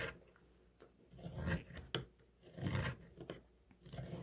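A hand carving knife shaves wood while shaping a wooden spoon, giving short close rasping scrapes in irregular strokes with brief pauses between cuts.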